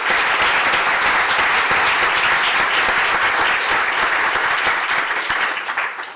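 A conference audience at an opening session gives loud, dense and continuous applause for an organiser, a full room clapping steadily before it starts to fade at the very end.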